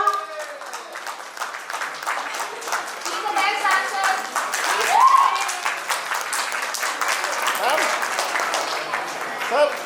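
A crowd claps at a preschool annual day event, continuous mid-level applause from many hands, with children's voices and brief chatter mixed in.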